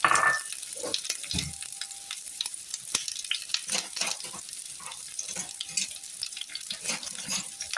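Chopped onion frying in hot ghee for shahi paneer, giving a continuous close crackling sizzle scattered with small pops and occasional utensil clinks.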